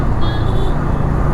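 Steady, loud road traffic at night, a close, continuous rumble of passing vehicles with a brief higher whine, and no voices.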